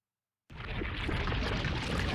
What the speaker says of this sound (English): The partially born Kurosuke makes bubbling noises and begins falling apart.